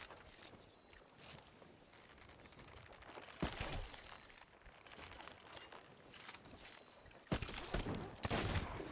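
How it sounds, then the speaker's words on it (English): Cannons firing in a video game, a few loud booming blasts at irregular intervals over a quieter bed of mechanical clatter and ambient battle noise, no voices. "They are really working the cannons over here."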